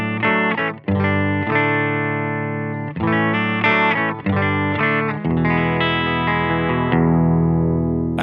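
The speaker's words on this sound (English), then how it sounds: "Silktone amp sounds like this." A Sipe Guitars OH19 electric guitar played through a Silktone amp rings out in loud, sustained chords and notes with a distorted, effected tone, several strummed changes with no talking.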